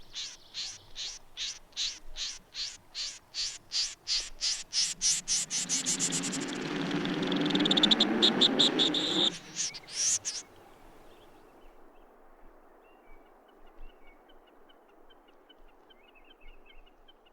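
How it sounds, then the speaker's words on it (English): A bird sends out a rapid series of sharp, repeated calls that quicken into a dense, buzzing trill and then break off, leaving a faint hiss of background. "Wow, that was bird sounds."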